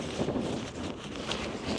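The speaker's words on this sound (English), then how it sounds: "it's too windy" Wind gusting across a mountain summit at a wild camp, buffeting the microphone with low rumbling bursts and rustle, brief and steady with no voices.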